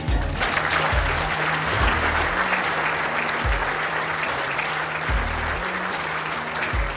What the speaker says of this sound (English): Please continue that applause, ladies and gents, for your runners-up